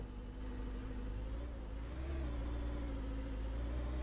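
A car engine drones steadily as the vehicle drives along in the game Contraband Police, a continuous mid-pitched hum with a slight rise in pitch partway through.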